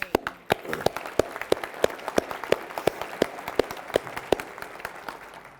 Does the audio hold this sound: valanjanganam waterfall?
no